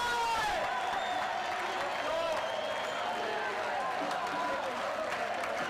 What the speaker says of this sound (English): we don't have a full house, but a very good crowd, at least in terms of noise